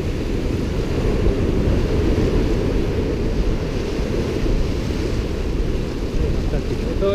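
Sea surf washes steadily along the Alicante coast during an August e-bike ride, a dense continuous roar mixed with heavy wind buffeting on the microphone.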